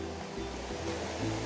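Waterfall of the three basins at Penedo, Itatiaia, a steady broadband rush of falling water that stays even and loud across the whole moment, with no voices over it.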